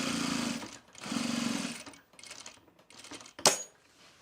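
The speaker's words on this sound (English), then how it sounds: "We're going to stitch this down all the way through all layers." A sewing machine stitches a tool case through all layers of fabric in two steady runs, then shorter stop-start bursts ending in a sharp click.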